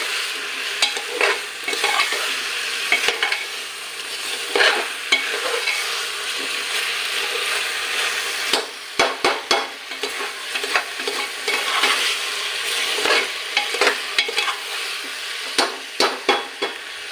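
Banana flower frying in a pressure cooker pan for an Assamese broiler chicken dish, a steady loud sizzle broken by repeated scraping and stirring strokes, with no voices.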